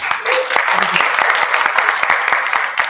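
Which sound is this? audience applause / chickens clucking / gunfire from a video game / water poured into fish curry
audience applause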